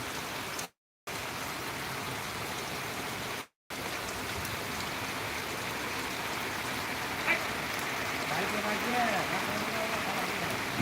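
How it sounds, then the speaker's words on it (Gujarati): Steady rain hisses evenly throughout, broken by two brief dropouts, with faint voices murmuring in the background near the end. "થોડોક ધીમો પડી જાય પણ ચાલુ જ છે વરસાદ"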